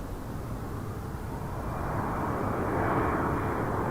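A Challenger jet at Toronto Pearson Airport roars at a distance, a broad steady rumble that swells slightly louder as it approaches.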